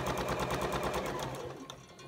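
A sewing machine runs fast and steadily while stitching a patchwork seam, its needle making a close, even chatter that slows and fades near the end.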